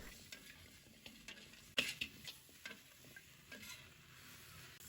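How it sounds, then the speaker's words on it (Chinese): Pig trotters being stir-fried with spices over high heat, a quiet continuous sizzle broken by scraping and clinking stirring strokes and one louder clatter. "开大火快速的将它翻炒一下"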